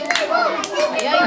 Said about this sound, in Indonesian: Tepuk tangan untuk Mbak Lia.